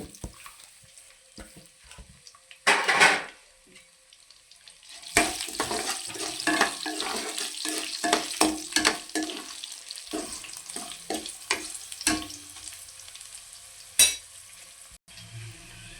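Tempering spices with garlic cloves and dried red chillies sputter and crackle in hot oil in uneven bursts, with a few louder pops and clatters standing out from the frying hiss.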